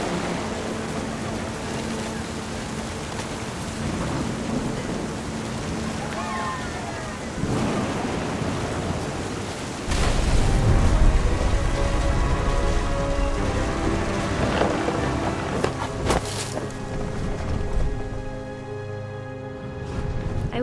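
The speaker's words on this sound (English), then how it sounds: "The thunder sounded much too close and full of angry power." A thunderstorm in the video game What Remains of Edith Finch: steady rain patters throughout while deep thunder rumbles roll in and swell loudly about halfway through, then slowly fade back into the rain.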